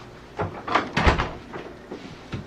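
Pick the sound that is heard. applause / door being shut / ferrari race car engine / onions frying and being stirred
door being shut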